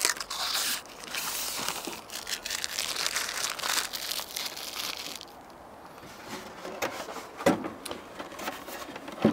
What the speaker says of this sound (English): we'll peel off the protective cover that comes with them